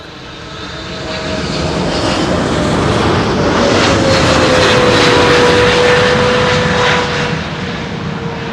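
A passenger airliner landing at Schiphol on runway 06, Kaagbaan, its loud engine roar building and holding steady with a faint descending whine as it passes close, then easing slightly at the end.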